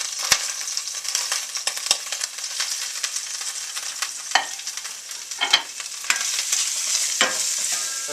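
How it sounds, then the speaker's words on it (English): Garlic and onion fry in hot oil in a pan for a Tibetan meat and cabbage dish, a steady close sizzle with scattered sharp clicks and scrapes of stirring; no voices. "Then I can fry the garlic and the onion first."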